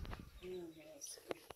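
Small birds chirp in short high tweets at a rural homestead in Nova Itália, Paraná, Brazil, a few brief calls heard close against soft background noise.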